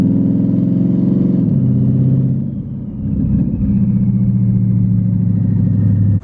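Twin turbo Mustang with a high stall converter idling up around 3,000 RPM, a loud steady low engine drone that dips and shifts pitch briefly midway before settling back, close by.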